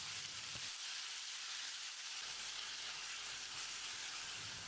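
Steady crackling sizzle of tomatoes frying in a pan with salt, continuous and close, with a few soft clicks of stirring.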